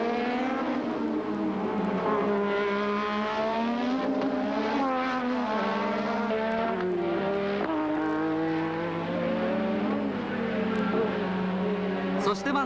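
A 1986 Formula One race car's Honda engine screams steadily at high revs during the French Grand Prix at Paul Ricard, its pitch climbing and dropping with gear changes, loud and continuous with no pauses.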